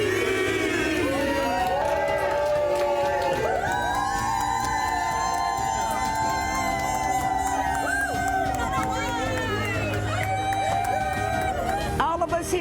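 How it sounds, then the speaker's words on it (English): A crowd at a Kansas City Chiefs rally cheers, whoops and chatters in a loud continuous babble, with voices talking and shouting throughout and a few louder shouts rising above the rest. "we're cheering on the Chiefs this weekend for a three-peat"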